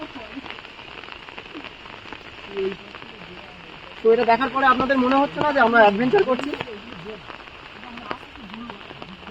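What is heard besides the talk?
rain falling during an outdoor picnic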